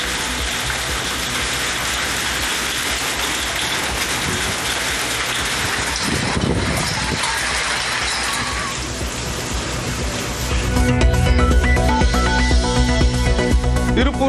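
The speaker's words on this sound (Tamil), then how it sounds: "திருப்பூர் மாவட்டத்தின் பல்வேறு பகுதிகளிலும் ஆலங்கட்டி மழை." Hail pelting down during a storm in Tiruppur district, Tamil Nadu: a loud, dense, continuous patter that keeps up throughout and grows heavier and harsher toward the end.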